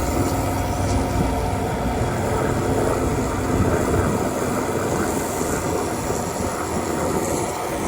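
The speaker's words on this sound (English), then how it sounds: "Military helicopter." A military helicopter passes overhead with a steady, loud engine roar and broad rumble holding throughout, with no talking.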